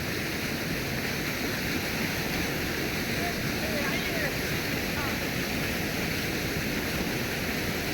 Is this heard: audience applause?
no